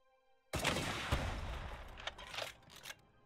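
RPG explosives fire in the survival video game The Front. After a quiet start, a sudden loud blast roars into a sustained rumbling wash, followed by a few further sharp bangs as it fades.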